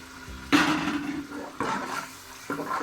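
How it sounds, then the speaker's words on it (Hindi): Half a glass of water poured into a pan of frying aloo gobi masala, giving a loud sizzling hiss that rises sharply and then settles, followed by two more splashy surges. "आधा गिलास जो है पानी का हम इसके अंदर ऐड कर रहे हैं।"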